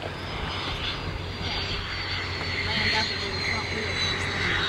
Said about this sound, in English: He's getting ready to land full stop.